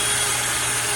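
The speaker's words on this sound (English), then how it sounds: "So I'm just gonna drill a little hole in here." A drill bores a small hole into a piece of scrap wood, its motor whining steadily and loudly at close range throughout, with no voices.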